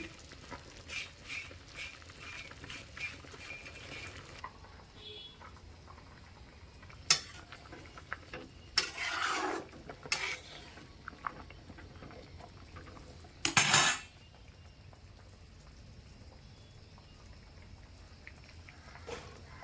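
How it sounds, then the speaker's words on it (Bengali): Dried red chillies sizzle and crackle on a hot tawa over lowered gas heat in a home kitchen, with a few sharper clatters of stirring against the pan over a steady frying hiss. "আর এটা এখন গ্যাস কমিয়ে একদম ভালো করে মরিচগুলো ভেজে নিব বাগুন ভর্তা বানানোর জন্য।"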